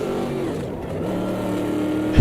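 A basic, non-race-tuned Corvette in the racing game Automobilista 2 drones steadily under load as its engine pitch climbs, ending in a sudden louder burst.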